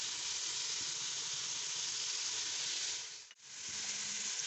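Loud, steady sizzle of bhuna gosht meat frying with garlic and ginger in a pan, close up with a brief dip from stirring near the end and no talk.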